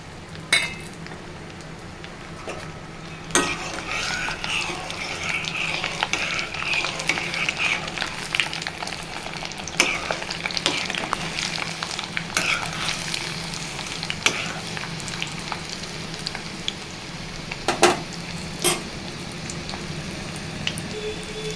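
Garlic cloves frying in oil in a pan over a low gas flame, a steady soft sizzle with occasional clinks and stirring scrapes of a utensil against the pan.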